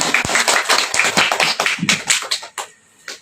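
Children clapping along in a rhythmic colourful clap game, a quick run of sharp, near hand claps and taps fading out at the end.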